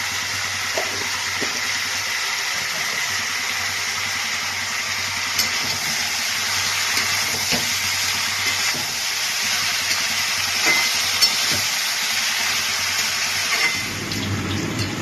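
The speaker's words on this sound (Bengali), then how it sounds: "এবার সব সবজিগুলোকে দিয়ে আমি একটু ভালো করে ভেজে নেব" Mixed vegetables, with a pinch of sugar, frying in a pan for Bengali katla fish tel chorchori: a steady, even sizzle runs throughout with faint stirring clicks and no talking.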